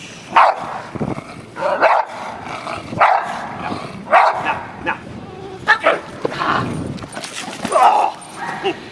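A dog attacks its trainer during a training session and barks over and over. The loud, sharp barks come in irregular bursts throughout, with scuffling noise between them.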